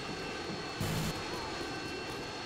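Aircraft roar steadily overhead in Modern Warfare 2, a dense broadband engine wash with a brief louder swell in the middle and no talk.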